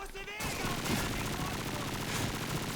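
Sustained machine gun spraying fire in Call of Duty 2, a dense continuous burst that starts abruptly and rattles loudly without a break to the end.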